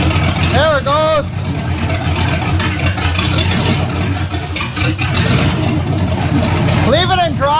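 An LS-swapped 1967 Chevelle engine runs at a steady, loud idle throughout, with people talking close by over the rumble.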